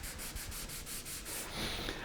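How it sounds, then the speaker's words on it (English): Rhythmic sanding strokes rasp back and forth on a wooden guitar body, close and steady, about eight passes before a smoother, lighter rubbing. "you can hear as I sand, you can hear how quickly it goes smooth"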